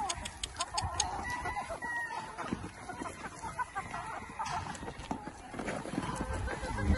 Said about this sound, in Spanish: Un pavo ahí.